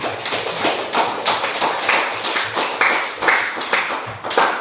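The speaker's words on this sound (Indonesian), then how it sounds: "Tepuk tangan dulu untuk Nesa." A classroom of students claps for a classmate, Nesa, after she presents a chemistry conclusion, heard as a close, loud patter of hands in uneven rhythmic bursts lasting several seconds.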